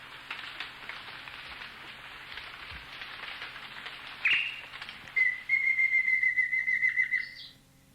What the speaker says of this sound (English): a pair of black-faced ant thrushes calls and later sings